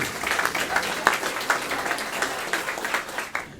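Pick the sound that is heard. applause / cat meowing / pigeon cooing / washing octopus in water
applause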